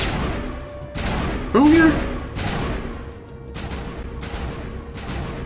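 Gunfire in Mass Effect Legendary Edition, several sharp bursts spaced about a second apart, one louder than the rest, with a voice speaking between the shots.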